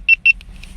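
Two short, high electronic beeps in quick succession from a GoPro camera powering on, followed by fainter chirps, close by.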